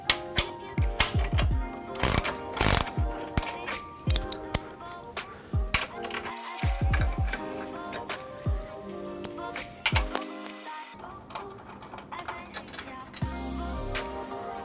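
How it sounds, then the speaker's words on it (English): A ratchet and 12 millimeter socket loosen the bolts on a carbon fiber hood of a Honda Civic. Rapid metallic clicking comes in bursts, mixed with clinks and knocks of tools, close and fairly loud. "take your 12 millimeter socket and loosen the other two."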